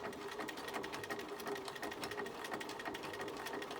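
A sewing machine runs slowly through a zigzag stitch on a knitted beanie, its needle tapping in a steady, even rhythm, close but soft.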